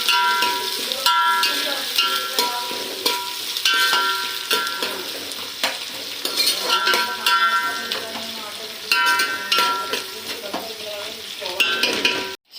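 Fried brown onions for chicken dum biryani being stirred in a pan, with a loud crackling sizzle and repeated clinks and scrapes of a metal spoon against the vessel, continuous and close.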